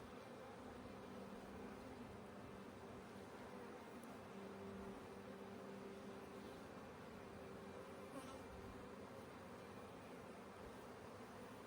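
Honey bees fill a crowded beehive box with a faint, steady, even buzz that holds unchanged throughout, with no talking.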